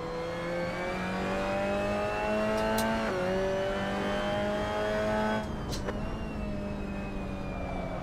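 A Fiat 126 fitted with a sport engine mod in the Assetto Corsa racing game drones steadily at high revs, pitch dipping briefly as it shifts and holds, then easing off near the end; loud and continuous with no talk.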